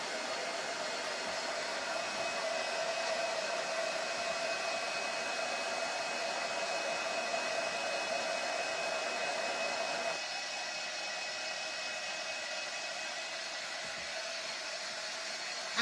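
A hair dryer blows steadily over a fine-line crackle finish on a furniture project, a close, continuous whooshing hum with a slight drop in tone partway through and no talking.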